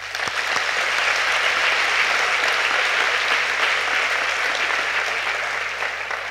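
An audience at a Castilla y León healthcare awards ceremony applauds steadily, a loud, even wash of many hands clapping that holds for several seconds without letting up.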